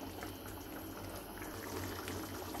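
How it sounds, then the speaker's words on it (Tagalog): Pinoy-style sweet spaghetti sauce with tomato sauce, ketchup, chicken cube and hotdogs simmers in a pan, a faint, steady bubbling hiss with no talk. "nagsisimmer na siya"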